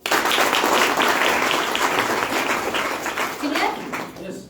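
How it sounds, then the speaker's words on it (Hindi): Audience clapping fills a hall at a business presentation, a dense, steady round of applause that holds for several seconds before tapering off, with voices mixed in. "ताली बजा दो।"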